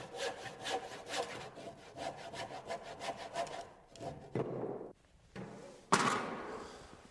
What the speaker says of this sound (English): When I'm making my cuts with a handsaw